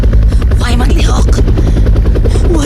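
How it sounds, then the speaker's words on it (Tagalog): A helicopter holds steady in a hover near a burned vehicle, its dense, loud rotor throb and engine whine filling the whole stretch without a break. "Nagsteady sa iyang lupad ang helikopter."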